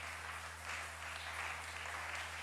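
A church congregation applauding, a steady, faint wash of clapping from many hands in a large room, continuous throughout with no voices.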